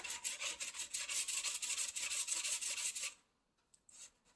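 A steel wood chisel's flat back is worked against a sharpening stone in quick, close, steady rasping strokes for about three seconds, then it stops and only a few faint scrapes follow.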